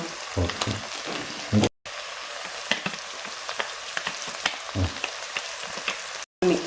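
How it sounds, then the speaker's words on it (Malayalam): Chili powder, coriander powder and garam masala fry in oil for a fish curry, giving a steady close sizzle with occasional stirring taps and two brief silent cuts. "പൊടികൾ ഒക്കെ എണ്ണയിൽ ഇങ്ങനെ ഒന്ന് കുറച്ച് മൂത്ത് വരും"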